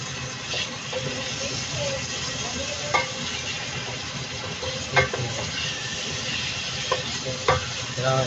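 Sopas being stirred in a cooking pot, a steady wet sizzling and scraping texture with occasional louder knocks of the spoon against the pot, close and continuous throughout.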